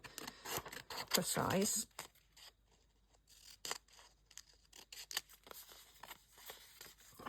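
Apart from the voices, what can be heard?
paper being cut roughly into a rectangle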